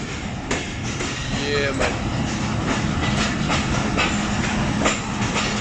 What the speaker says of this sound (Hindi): समासटा के प्लेटफॉर्म नंबर 3 पे पहुंच रही है 38 टाउन फरीद एक्सप्रेस